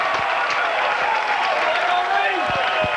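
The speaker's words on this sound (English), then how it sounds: "And this crowd is really pumped up." Baseball stadium crowd cheering and clapping after a fielding error lets a run score, a steady broad roar of applause throughout with brief speech-like bursts mixed in.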